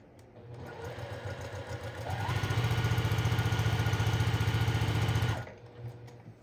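A sewing machine stitches a patchwork quilt along a diagonal line, its motor revving up into a fast, steady pulsing whir for about three seconds before stopping, close and loud with no talking.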